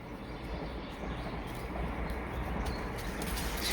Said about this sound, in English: That's a train, Diesel.